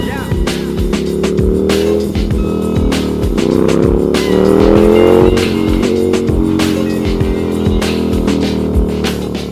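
Royal Enfield Continental GT 650 twin-cylinder motorcycle exhaust rumbles loud and close, with a steady throbbing drone that swells and eases through revs, and a voice heard faintly under it.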